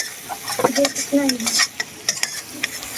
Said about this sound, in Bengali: তো এবার সুন্দরভাবে কষাবো আমি